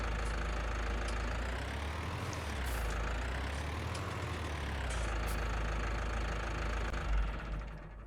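A tractor engine idles steadily inside Farming Simulator 19, a continuous mid-low rumble with a faint knocking texture, alone and without talk, holding roughly level throughout.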